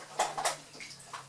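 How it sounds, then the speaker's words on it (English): Brief splashing of water into a bucket, a few sloshing bursts close by in a quiet room, fading toward the end. "Get some of that water in the bucket."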